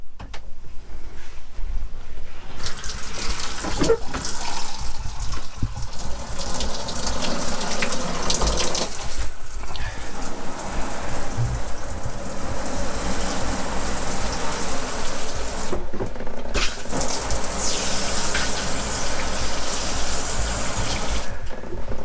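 Water rushing steadily from a trailer shower faucet, a loud continuous hiss with brief surges and dips, close by and with no voices.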